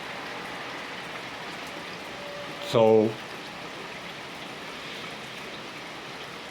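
Steady rain falls in a soft, even wash throughout, with a brief spoken word rising over it near the middle.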